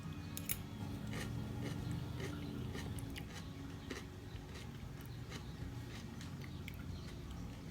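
Steady crunchy chewing of pickled radishes and onions close to the mic, with repeated crisp bites and crackles over a low background hum.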